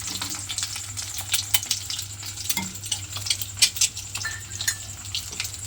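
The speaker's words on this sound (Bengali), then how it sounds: "এইভাবে একটু হালকা করে ডিমটা প্রথমে ভেজে নেব" Eggs fry in a pan for a Bengali egg recipe, giving a steady close sizzle with crackling pops and the odd stir, and no one talks.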